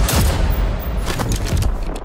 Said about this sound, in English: can stun enemies with pistol shots to the torso